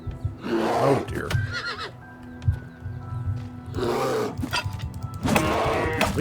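Horses in the video game Oblivion Remastered give two loud, close neighs, the first near the start and the second around the middle, with quieter snorts and shuffling between them.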